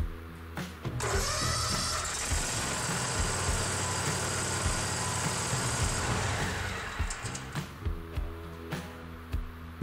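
Bobcat zero-turn mower engine cranks briefly, catches and roars to a loud steady run, then cuts off after several seconds, leaving faint clicks and quiet.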